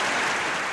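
Applause added in post-production, dense even clapping at a steady level throughout the brief moment, with no voices.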